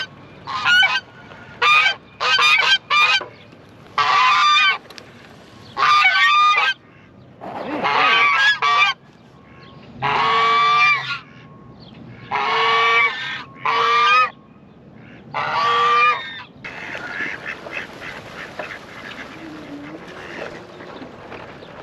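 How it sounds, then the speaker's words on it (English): Geese honk loudly in a long run of about a dozen separate bursts, some single and some doubled, nearby with short quiet gaps between them. "Running around waking up all the geese and the ducks."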